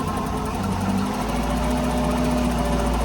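A MerCruiser 6.2 marine engine runs at a raised idle, a steady loud rumble with a faint rhythmic knock, holding even throughout with no talking.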